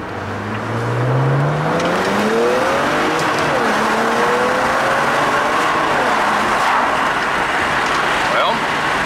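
A BMW 335xi with an MHD stage 1 tune and no other mods revs and drives off at close range. Its engine tone rises and falls in several sweeping pulls over a loud, steady background rush, and voices speak over it.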